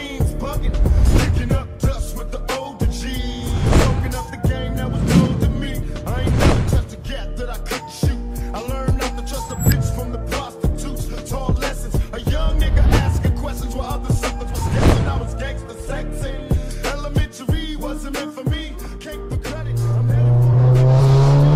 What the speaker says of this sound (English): We're out in a 505 horsepower Mark 7 Golf R.